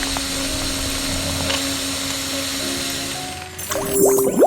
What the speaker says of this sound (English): Drill moves in, lowers the bit, and starts drilling.